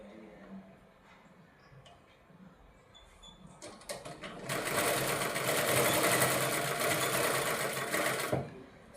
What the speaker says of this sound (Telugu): అందులోకి ఒక లైన్ స్టిచ్ చేసేస్తాం